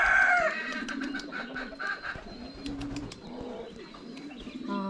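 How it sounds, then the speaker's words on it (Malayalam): Many chickens cluck and call inside a farm enclosure in Fujairah, UAE, with layered, busy bird noise and scattered sharp calls continuing throughout. "ഒത്തിരി കോഴികളുണ്ട് കേട്ടോ."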